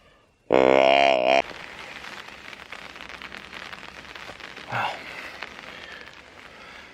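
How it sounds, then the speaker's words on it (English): Heavy rain patters steadily on the woods during a rainy Nova Scotia deer hunt, a dense, constant hiss. A loud, brief deer grunt call blasts near the start, and a short, softer thump or grunt follows later. "The rain has picked up quite a bit."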